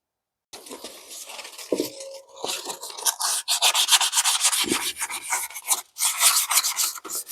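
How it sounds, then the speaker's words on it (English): Steady, close rasping scrub of 500 grit sandpaper rubbing carbon off a piston from a 454 big-block Chevy engine, in continuous back-and-forth strokes that grow louder and quicker after a brief start. "So a bit of sandpaper, and let's see if we can get this black ring off just to pop that through."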